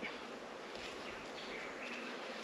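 A thick, constant buzzing of many bees swarming close by, a dense hum with faint higher whines drifting through, no speech.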